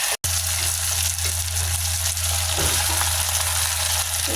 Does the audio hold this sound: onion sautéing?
yes